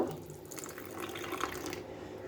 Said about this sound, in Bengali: এখন এর মধ্যে অল্প একটু জল দিয়ে নেব